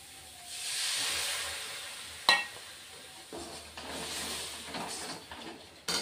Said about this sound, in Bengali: দিয়ে এবার কষিয়ে নিব মশলাটাকে